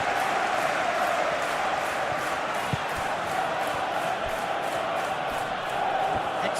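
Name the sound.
football crowd cheering in video game PES 2021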